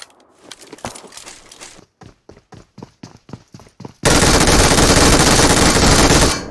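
Gunfire in the video game PUBG Mobile, a series of sharp close shots in an uneven burst, followed by a loud, continuous roaring noise that fills the rest of the clip.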